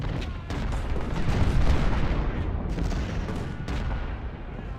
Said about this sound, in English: With this Kirk's battery firing along, literally directly into their flank.